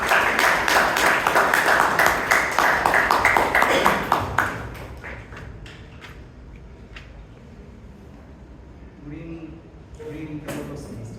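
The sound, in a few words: audience applause at a Toastmasters club meeting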